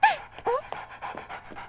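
A cartoon dog pants in quick, breathy puffs, a few short bursts with brief whimpery tones in between, close and alone with no talk.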